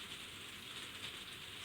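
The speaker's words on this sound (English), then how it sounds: "it's raining right now in the conservatory" Rain falling on a conservatory roof: a faint, steady hiss of drops pattering evenly throughout, with no voices.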